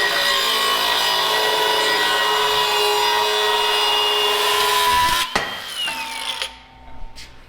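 A power saw cutting through steel on a truck frame for an off-road 6x6 build, a steady loud grinding whine with tonal squeal that holds for about five seconds before cutting off sharply, followed by quieter scraping and clanks.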